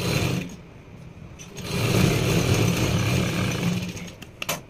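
Sewing machine stitches a patiala pant, a steady mechanical whirr that holds for several seconds at moderate loudness, ending with a couple of brief clicks.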